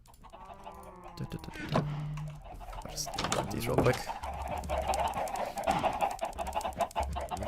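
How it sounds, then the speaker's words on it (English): Chickens cluck in Minecraft, short fowl calls near the start among game sounds, while a person talks over them. "there's so many chickens over here"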